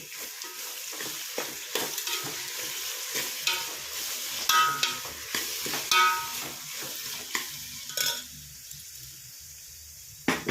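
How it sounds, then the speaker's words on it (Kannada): Mixed vegetables for a vegetable pulao stir-fry on a low flame, a spoon scraping the pan at an irregular pace over a soft sizzle, with no voices. "ಅದಕ್ಕೆ ಸಿಮ್ ಅಲ್ಲಿ ಹಾಕಿ ಮಿಕ್ಸ್ ಮಾಡಣ ನೋಡಿ ಫ್ರೆಂಡ್ಸ್ ಈಗ ಬಂದಿದೆ ತರಕಾರಿ"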